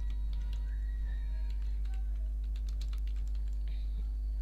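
Someone types code on a computer keyboard in uneven bursts of light, close key clicks, with a steady low electrical hum constantly underneath.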